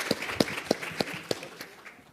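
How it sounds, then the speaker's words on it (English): Scattered applause from a small audience for a volunteer guest panel at a marine citizen science event: a handful of separate, fairly close claps that thin out and fade toward the end. "give a big, warm round of applause for our guest panels"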